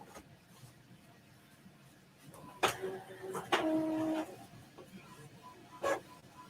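Epson EcoTank 2720 printer printing an alignment page, with quiet mechanical clicks and a few short whirring feed and print-head passes, near but fairly soft.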